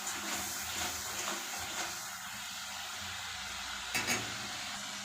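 Ground spices sauté in a pan with a soft, steady hiss and faint sizzle, a couple of light scrapes of stirring, no talking.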